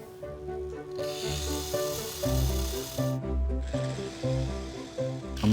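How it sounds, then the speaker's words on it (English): A drill grinds slowly in short repeated bursts, with a gritty rasping texture as it bites out small old rivet eyelets in a toy plane's wings. "I need to just drill out these two little rivet eyelets that are in the wings here."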